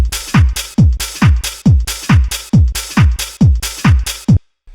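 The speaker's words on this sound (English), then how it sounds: "So they're speed garage drums." A punchy speed garage drum loop with booming kicks on a steady, driving beat and crisp hi-hats, loud and alone, ending abruptly.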